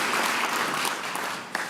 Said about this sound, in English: let's give her a big welcome, a round of applause for being here